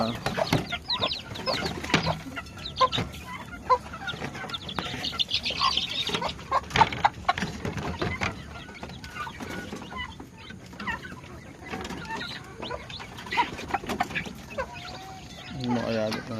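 Native chickens clucking in a backyard where goats are kept, with repeated bursts of clucking and some wing flapping nearby, mixed with people talking throughout.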